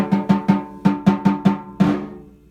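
A snare drum plays a quick, even run of about eight crisp sixteenth-note strokes, each ringing briefly, with a final accented hit that fades out.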